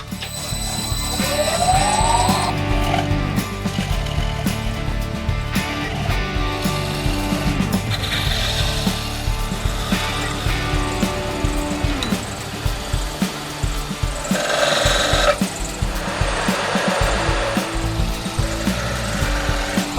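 Continuous whirring of a wood lathe with scraping and chattering as a tool cuts into a spinning wooden spoon blank, loud and close.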